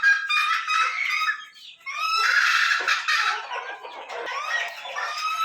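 Imported foreign-breed chickens, including Golden Sebright laying hens and a rooster, cluck and squawk loudly and close in a dense, overlapping flock chorus.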